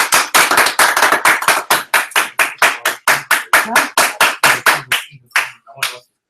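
A small group claps for a student's independent class project, close and loud, with sharp individual claps in a brisk rhythm that thins out and stops after about five seconds.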